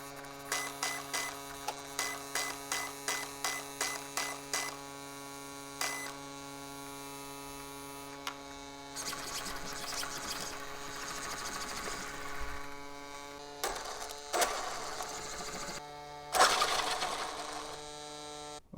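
A Traxxas X-Maxx 8s RC truck with a HobbyWing Max6 upgrade sits close by as its electronics beep and whine in a regular sequence over a steady hum, then the motor surges through full throttle and reverse in uneven bursts.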